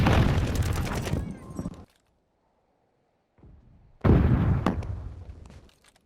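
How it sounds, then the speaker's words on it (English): A stun grenade goes off amid gunfire in Call of Duty Vanguard: a loud burst of blasts and shots, then near silence with a faint ringing hum, then another loud eruption of fire and explosions. "Je balance une grenade paralysante!"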